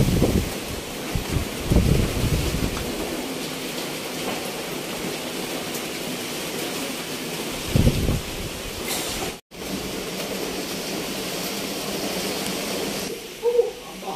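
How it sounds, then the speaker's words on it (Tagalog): Strong wind from Typhoon Kristine gusts and rushes steadily outdoors during heavy rain, a broad loud hiss with occasional louder buffets. "Talaga pong napaka-ulan, tas mahangin."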